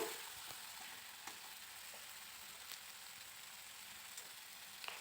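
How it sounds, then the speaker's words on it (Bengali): A paste of ginger, garlic, cumin and chili hits hot oil for a patol fish curry, producing a soft, even sizzle with occasional faint crackles and spoon taps, no voices. "আদা রসুন জিরে আর লঙ্কা পেস্ট করে রেখেছিলাম তো সেই পেস্টটা দিয়ে দিলাম"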